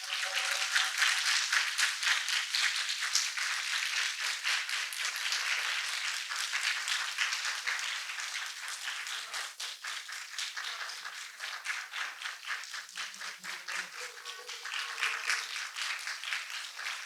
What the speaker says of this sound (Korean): 오늘 행사에 귀한 걸음해주신 기후에너지 환경부 김성환 장관님께 큰 박수로 환영 부탁드립니다.